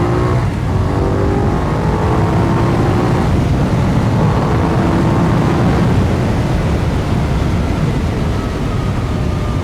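A Benelli 752S motorcycle engine revs up hard while riding on the road, a loud, steady roar with rising tone across the whole stretch, no voices.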